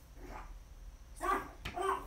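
A small dog gives a couple of short, soft yips and barks close by, with quiet pauses between them.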